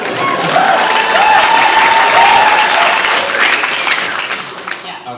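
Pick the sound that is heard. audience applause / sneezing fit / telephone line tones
audience applause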